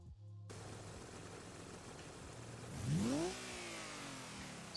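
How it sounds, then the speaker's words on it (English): The ETK K-series car in BeamNG idles with a steady engine hum, then revs up sharply in a rising exhaust sweep and falls back to idle, close and clear. "I actually do not like this engine sound."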